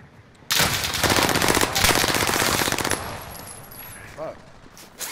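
Gunfire in a shooter video game: a sudden loud burst of rapid automatic fire lasting a couple of seconds, then quieter ambient sound with a faint later shot.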